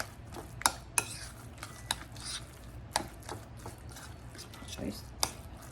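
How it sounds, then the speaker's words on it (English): A spoon stirs canned pink salmon croquette mixture in a bowl, giving scattered light clinks and soft wet scraping at an irregular pace while a person talks over it. "So we're just gonna stir"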